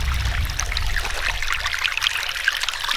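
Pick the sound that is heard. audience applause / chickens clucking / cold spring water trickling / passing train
cold spring water trickling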